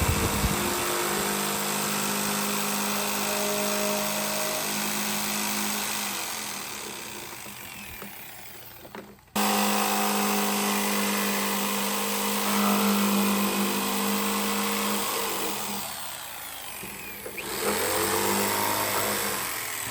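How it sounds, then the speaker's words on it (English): Jigsaw cutting into a vinyl fence post, a steady, loud, buzzing motor drone running nearly continuously, dipping briefly mid-cut before resuming at full strength. "you're simply going to turn the jigsaw around and go toward the other corner to cut that little remaining piece that's still on the post"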